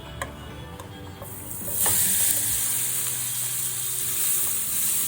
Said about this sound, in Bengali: 1/2 চামচ কালো জিরে দিলাম। ফোড়নটা দেখুন ভাজা হয়ে গেছে।